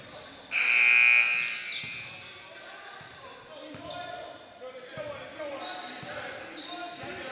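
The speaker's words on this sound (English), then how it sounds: "An errant buzzer there by the looks of it" A loud electronic buzzer blares for about a second during a basketball game, then a basketball bounces and sneakers squeak while a commentator talks.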